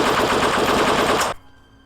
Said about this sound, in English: Suddenly, from the opposite side of the stage, gunfire erupted.